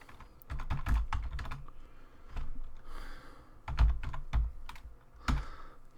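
Keys clatter on a computer keyboard as a name is typed, bursts of sharp close clicks with short pauses between groups.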